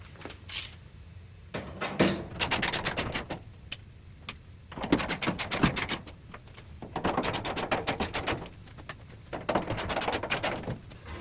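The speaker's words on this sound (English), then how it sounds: "Now we have 4 screws to remove this panel." Screws are driven out of the panel of an LG clothes dryer, bursts of rapid whirring clicks from a powered screwdriver in several close, separate runs with quiet gaps between.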